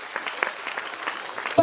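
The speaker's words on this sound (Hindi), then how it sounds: "इन बच्चों के लिए थोड़ी सी ताली बजा दीजिए" Clapping for schoolchildren at a school annual function, a brisk patter of many hands that stays fairly even and moderately close, with a sharp bump at the very end.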